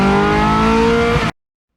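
Ferrari F430 supercar engine at high revs, a loud, steady harmonic roar held for just over a second before cutting off abruptly into silence.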